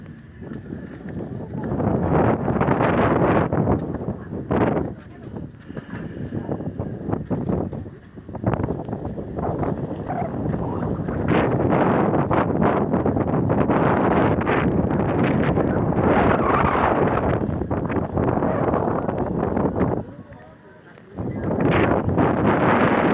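Strong natural wind at Chilika lake buffets the microphone in loud continuous gusts that swell and fade, with a brief lull near the end and faint voices beneath.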